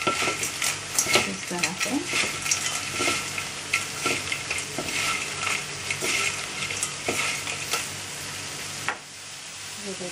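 Crispy onion potatoes with chilli powder and salt are stirred and fried in a pan, with continuous sizzling and repeated scraping, clattering spatula strokes. A brief remark is spoken partway through, and the frying drops quieter near the end.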